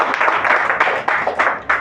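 A church congregation at a Sunday Mass applauds for the Lord, a short burst of steady, moderately loud clapping from many hands with no voices over it.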